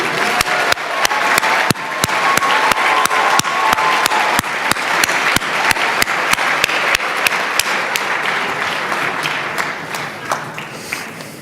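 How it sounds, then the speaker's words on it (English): A sustained round of applause from a ceremony audience honoring 18 award recipients at the Cleveland Jewish News Foundation event, steady, dense and loud throughout, with a few sharper individual claps standing out and easing slightly at the very end. "One more round of applause for the 18 difference makers"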